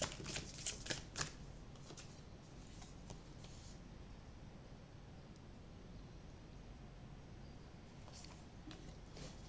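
Tarot cards shuffled by hand during a card reading, a few quick crisp riffling bursts near the start, then a faint steady hiss with soft papery rustles, close and quiet.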